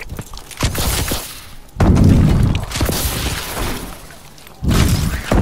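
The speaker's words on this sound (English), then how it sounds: "360 turret in action" A deployable 360 turret fires in Call of Duty: Advanced Warfare, loud booming bursts in three heavy bunches separated by quieter stretches of battle noise.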